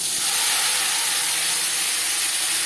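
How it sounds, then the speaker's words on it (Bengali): Whole cumin seeds sizzle in hot oil for a fish and potato curry, a steady loud hiss of frying that holds evenly without pause. "ফোড়নে দিয়ে দেবো হাফ চামচ গোটা জিরে।"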